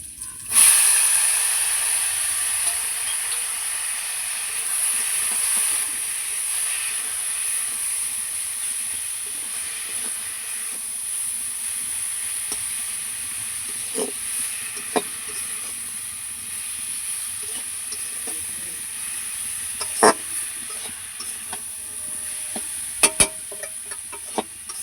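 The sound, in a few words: greens sizzling as added to frying onion and garlic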